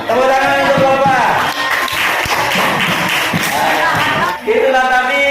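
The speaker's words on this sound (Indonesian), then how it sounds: "Tepuk tangan untuk Bapak." Applause from students in a classroom for their teacher, a brief burst of clapping mixed with voices and chatter, fairly loud and close, with a person talking over it.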